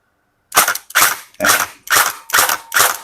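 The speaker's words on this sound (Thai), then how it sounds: "จากนั้นลองยิงกระป๋องกันดู อันนี้ผมปรับโหมดไปที่เซมิก่อนแล้วกันนะครับ" A Double Bell AKM electric BB gun with metal body and real wood furniture fires semi-auto at cans, six sharp, evenly spaced shots about half a second apart, loud and close with no talking.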